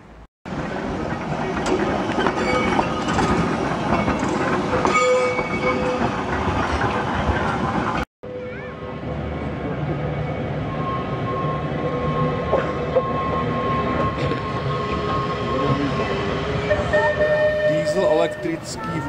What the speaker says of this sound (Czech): Příjezd tramvaje do stanice Maxi, kde je přestupní místo na Snæfell Mountain Railway.